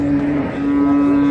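A cow with her female calf at the Friday livestock market in Pastdargom, Samarkand, lets out one loud, close, drawn-out low moo.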